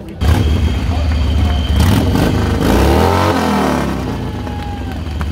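A Chevrolet-powered chopper motorcycle from Germany at an outdoor bike show prize-giving revs loudly and close, its engine roaring up and down with rattling undertones, while a voice on a public address talks over it.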